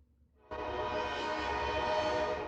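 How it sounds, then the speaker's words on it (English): A train on a nearby track sounds its horn: a sustained, rich multi-tone blast starts after a moment of quiet and holds steady, moderately distant and alone. "I live by a train track."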